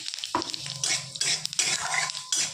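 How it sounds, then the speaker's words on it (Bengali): Dried red chili and five-spice seeds crackling and sizzling in hot oil in a wok, with busy bursts of frying and the clatter of a spoon stirring, close and loud with no talk. "কড়াইতে তেল দিলাম লঙ্কা ফোড়ন দিলাম এবং পাঁচ ফোড়ন দিলাম"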